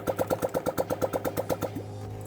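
A Honda Click 125i scooter engine, freshly top-overhauled after overheating and running without its exhaust fitted, chugs in a fast regular beat of loud pulses, then dies down into a quieter steady hum near the end.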